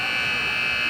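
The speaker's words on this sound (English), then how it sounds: "we're going to get that buzzer here" An end-of-period buzzer sounds at a hockey game, a loud, sustained electronic tone holding steady for the whole second.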